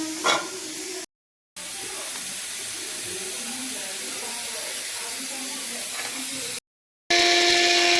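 A pressure cooker, used for boiling lotus stem, vents steam in a loud, continuous close hiss that runs through most of the stretch, interrupted by brief gaps, with no talking.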